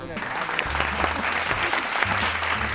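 A crowd at a quiz game held at Nehru Zoological Park claps hard and continuously, a dense, loud wash of applause. A voice can also be heard underneath.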